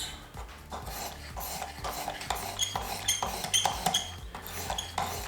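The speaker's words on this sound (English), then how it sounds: "trying to sharpen a knife not made by me" A knife, not handmade, drawn against the abrasive of a Work Sharp Precision Adjust sharpener, giving repeated close scraping, rasping strokes with light metallic clinks in a steady back-and-forth rhythm, with no talking.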